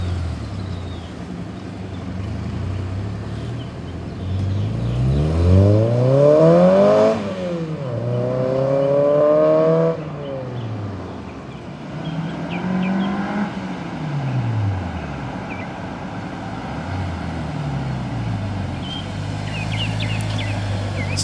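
K24a2-swapped Honda EP3 on a track, engine revving up through several rising pulls with shifts between, loud and close, then settling back to a lower drone.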